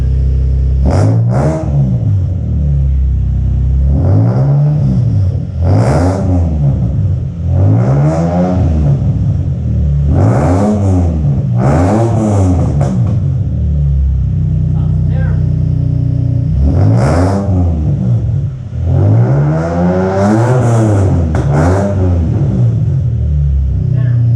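A loud Nissan 350Z engine, fitted with modifications, revs repeatedly, each blip climbing in pitch and falling back to a rough idle, in a steady series of throttle stabs.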